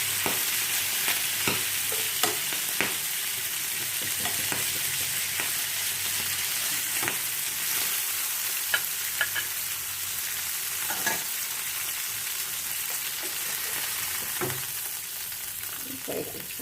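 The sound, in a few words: fish frying in oil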